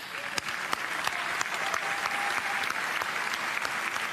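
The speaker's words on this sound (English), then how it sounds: "We can applaud them, please." Steady applause from a crowd at the Ballon d'Or ceremony, moderately loud and continuous, with a few sharper individual claps standing out.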